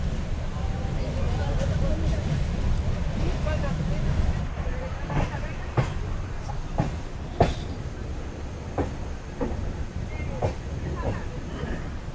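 A train hauled by a WAP4 electric locomotive passes an Andhra Pradesh Express: heavy low rumble with a run of sharp rail clacks and rattles, heard from aboard the moving train.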